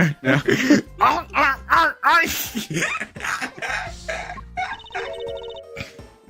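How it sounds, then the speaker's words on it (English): A string of raspy, strained coughs mixed with vocal sounds over the Ace Attorney Investigations game soundtrack, ending in electronic beeping tones. "What kind of cough was that anyway?"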